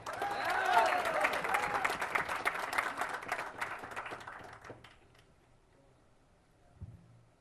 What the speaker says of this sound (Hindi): आप लोगों ने जितना मेरे लिए तालियां बजाई